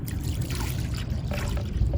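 Antifreeze poured into the radiator of a 1994 Chevrolet C1500 pickup with a 5.7L V8, a steady close-up liquid trickle and gurgle running continuously under low background noise.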